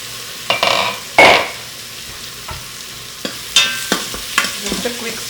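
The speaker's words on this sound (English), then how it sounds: "Okay, so the onions are sweating." Onions sweating in an Instant Pot for a pink lentil (masoor) stew give a soft sizzle. A few sharp spoon scrapes and stirring knocks break through, close and moderately loud, with no talking.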